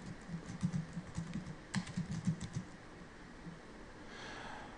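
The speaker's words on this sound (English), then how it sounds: "and type in your name" Keys tapped on a computer keyboard while typing in a name, a soft burst of irregular clicks in two close runs that fades to quiet near the end.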